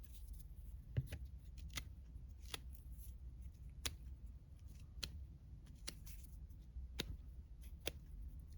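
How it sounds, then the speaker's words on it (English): Scissor edge scraping and roughing up a small cut piece of leather, a series of sharp dry scratches spaced through a quiet room with no talking. "I cut a piece off and I'm gonna sort of rough it up. Hopefully that'll work just with the edge of my scissors."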